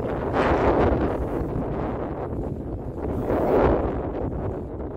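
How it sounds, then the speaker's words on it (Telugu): Strong wind gusts across a hilltop at Chattardi in Bhuj, buffeting the microphone in loud, swelling roars that rise and fall twice, with no talking. "ఇంత ఎండలో కూడా చల్లగా గాలి అనేది వేస్తుంది."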